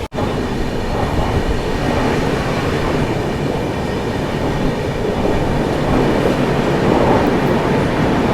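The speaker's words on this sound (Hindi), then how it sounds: "अभी अपनी ट्रेन स्किप मार रही है गंज बसौदा रेलवे स्टेशन को" Aboard the Tamil Nadu Sampark Kranti Express, a sleeper-class coach roars loudly and steadily as the train runs through Ganj Basoda railway station, with a continuous rumble and wheel clatter.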